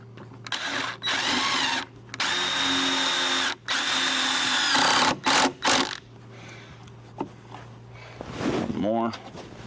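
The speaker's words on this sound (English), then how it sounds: "I'm going to put 3 screws in it." Power drill driving three screws to mount an electrical box for a 30 amp plug, several loud sustained bursts with brief pauses between them, close up, followed by a handling noise near the end.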